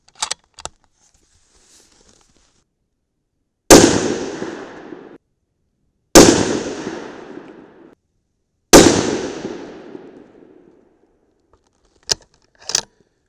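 Three loud, separate .308 Win rifle shots firing 208gr Hornady ELD bullets over Hodgdon Varget powder, each a sharp crack with a long decaying echo, spaced a few seconds apart, with faint clicks before and after.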